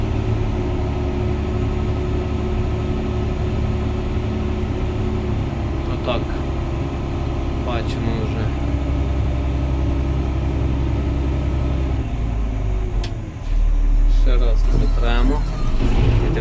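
A reach stacker's heavy diesel engine runs steadily as the machine creeps forward through falling snow, a continuous loud low rumble with brief hydraulic whines and a surge in power near the end.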